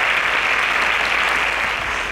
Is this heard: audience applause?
yes